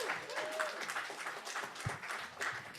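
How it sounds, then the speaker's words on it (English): Audience clapping at a Passover Seder gathering, scattered fairly soft applause at a moderate distance with a few distinct claps and light room murmur mixed in. "Yeah, we can do some clapping for that."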